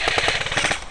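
Rapid burst of airsoft light machine gun fire during a game, a dense, steady stream of loud, close mechanical shots with no talk over it.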